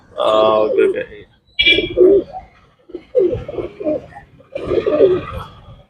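Pigeons coo up close in several throaty, rolling phrases separated by short pauses.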